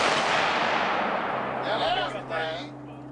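A 1.5 pound TNT charge bursts in a loud, broad blast that rumbles and fades over a few seconds into a hissing tail.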